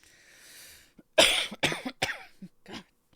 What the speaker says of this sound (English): The coughing is irritating.